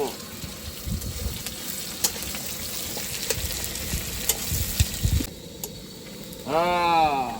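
Onions fry with chili in a pan for a chicken dish cooked on a truck during a highway journey, giving a steady sizzle with stirring scrapes, and a voice speaks near the end.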